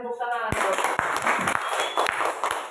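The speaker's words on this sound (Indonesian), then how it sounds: "Oke, kasih tepuk tangan." A crowd at a primary-school teachers' session breaks into brisk applause after a voice, and the clapping carries on under more talk.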